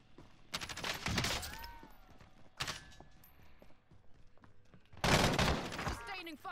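Bursts of automatic gunfire in the video game Warzone, three sharp volleys separated by quieter pauses, loud and close, with players talking in between.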